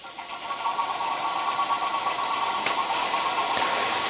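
A 270-S spin rinse dryer runs its rinse cycle, giving a steady, close mechanical whir with a constant motor hum and light vibration, plus a couple of brief clicks toward the end.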